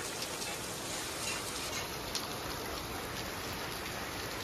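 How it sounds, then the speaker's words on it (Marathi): Steady, dense monsoon rain pours down without a break in the Konkan hills at dawn, a continuous hiss of drops striking surfaces close by, with no voices. "रात्रभर पाऊस, दिवसभर पाऊस."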